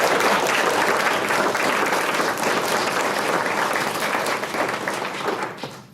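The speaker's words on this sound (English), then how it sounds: "give them all a round of applause" A room full of people at a school board meeting applauds steadily for several seconds, dense and even, fading slightly at the end.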